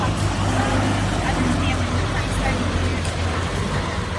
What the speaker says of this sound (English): I think this car truck passed by here